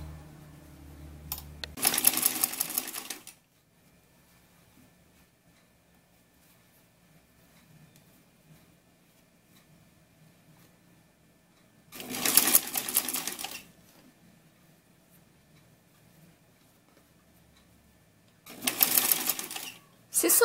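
A straight-stitch sewing machine joins the shorts and blouse of a jumpsuit, running in three short bursts of about a second each, well spaced, with quiet pauses between them.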